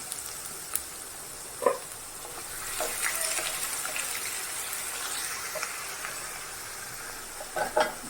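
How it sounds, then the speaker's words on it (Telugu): Carrots and onions hit a hot pan for lemon semiya, producing a soft, steady sizzle with a few sharp scraping stirs near the start and end. "ఇప్పుడు క్యారెట్ని, ఆనియన్స్ అన్నిటిని కూడా మనం ట్రాన్స్ఫర్ చేసుకుని రోస్ట్ చేసుకోవాలి."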